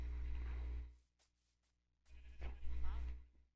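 Minecraft sheep bleating, two short wavering bleats separated by a brief silence, heard clearly over a low background hum with talk nearby.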